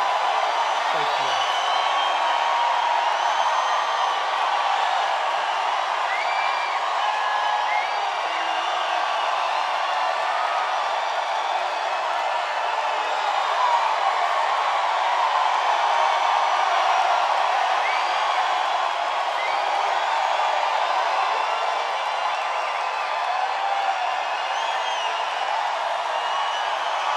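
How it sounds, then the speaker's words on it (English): A large crowd at Donald Trump's late-night rally in Missouri cheers and claps, a sustained distant roar of voices and applause that carries on steadily throughout. "That's some crowd."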